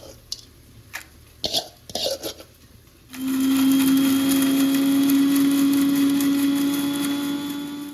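A mixer grinder blends chillies, cumin and urad dal for onion chutney: a few knocks and thuds, then the motor kicks in with a loud, steady high whine and grinding roar that holds to the end.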